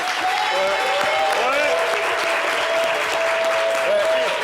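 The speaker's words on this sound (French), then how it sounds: "Merci d'applaudir Hervé Souoni." Studio audience applauding a guest on a French-language radio or TV show, a loud continuous clapping wash with a sustained musical tone and jingle-like melodic line running underneath.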